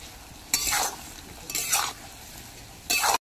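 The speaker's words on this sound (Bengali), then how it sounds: "ঝিঙের মধ্যে লবণ হলুদ দিয়ে ভালো করে নাড়িয়ে চাড়িয়ে নিয়েছি" Sliced ridge gourd stirred in a hot pan with turmeric and salt: three loud, separate bursts of scraping and sizzling stand out from a steady low hiss, with no voices.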